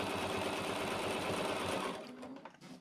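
Sewing machine stitching folded fabric, a steady, close mechanical whir that runs continuously for about two seconds before slowing and stopping, leaving faint handling sounds.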